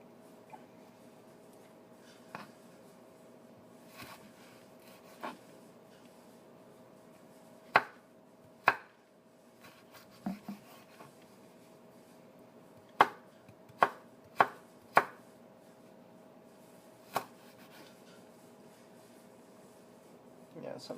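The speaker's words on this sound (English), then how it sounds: "I would want to cut that in half." A knife chops slices of ginger on a board, a scattered series of sharp, separate taps with irregular gaps, close but quiet against a faint background hum.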